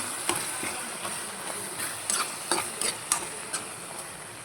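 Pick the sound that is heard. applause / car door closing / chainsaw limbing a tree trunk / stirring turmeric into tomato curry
stirring turmeric into tomato curry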